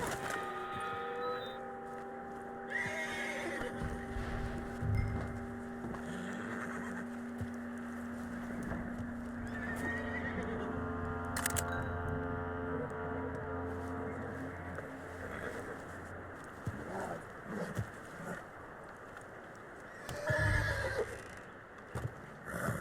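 A horse in Red Dead Redemption 2 whinnies and snorts over the clip-clop of hooves, with a sustained tonal hum beneath, the neighs rising loudly around the middle and near the end.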